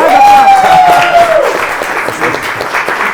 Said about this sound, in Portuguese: Tá demais essa plateia. Não aplaude tá mais aplausos,